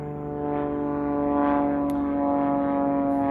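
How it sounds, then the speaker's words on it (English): A propeller-driven plane passes overhead outdoors, a steady loud droning hum with harmonic tones that swells slightly and holds throughout, with no talk. "Please excuse the plane going over."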